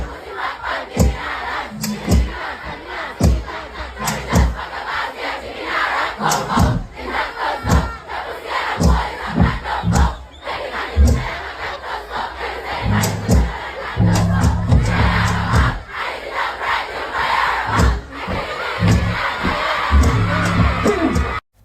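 A large crowd cheers and roars for a stage performance, a dense, loud wall of shouting and whooping with sharp bursts throughout, sustained over the whole stretch.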